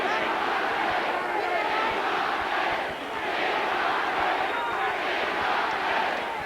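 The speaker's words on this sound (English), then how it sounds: "Crowd starting to roar." Arena crowd at a 1980 heavyweight boxing bout roaring loudly and continuously, a broad swelling wall of voices with a brief dip midway.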